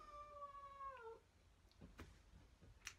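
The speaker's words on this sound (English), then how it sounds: "it's my cat" A domestic cat gives one drawn-out meow with a falling pitch, close and fairly clear, followed by faint scattered household noises.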